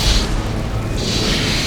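A deep, rumbling explosion sound effect from a Hindi-dubbed Hollywood sci-fi thriller about a weather war, a heavy low boom rolling and swelling briefly without speech.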